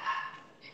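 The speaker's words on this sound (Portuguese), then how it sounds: "desculpa o barulho, é o cachorro da minha vizinha" Neighbour's dog giving a single short, faint bark from a distance, heard indoors.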